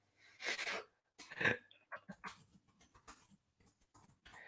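A person imitating a dog with short voiced barks and yelps, first a couple of louder bursts, then a quicker run of softer yips and breathy sounds, close and alone.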